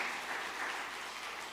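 A church congregation applauds during a Sunday morning service to welcome a new member, a steady, soft wash of clapping heard from a distance without voices.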